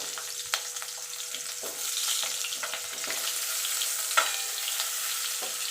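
Potatoes frying in a little oil in a pan with cumin and green chillies, a steady close sizzle broken by scraping stirs and a few sharp clacks of the spatula, no voices.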